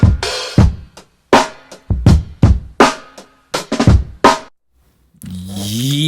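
Vintage lo-fi hip hop drum break with punchy snare hits and kicks in a sparse, choppy pattern, each strike decaying into short silences, ending with a brief sustained tonal sound.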